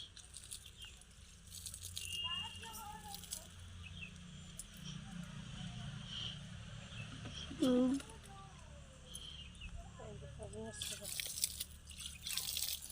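Irrigation water trickles and drips steadily into a field channel, a close, soft patter with brief splashes, while people talk intermittently over it.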